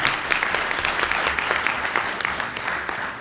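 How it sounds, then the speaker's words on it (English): Audience applause for students after a financial planning case study presentation, a steady burst of many hands clapping at a moderate distance with no talking over it. "Yes, we can clap. It's completely fine."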